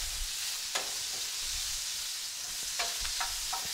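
Red onion stirred into crispy bacon frying in a pan gives a steady, fairly loud sizzle, with a few sharp stirring scrapes and clicks near the start and toward the end.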